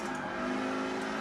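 Ford GT race car engine in the Gran Turismo racing game on PS4, a steady loud droning hum held at near-constant pitch, close and continuous with no talk over it.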